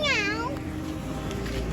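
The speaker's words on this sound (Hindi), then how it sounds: "हाँ बिल्ली है" A cat gives a single clear meow that slides downward, heard close by outdoors on a rainy day, followed by faint background noise while a person talks softly nearby.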